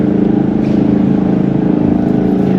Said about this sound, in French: C'est une espèce de plateforme utilitaire avec 2 moteurs électriques.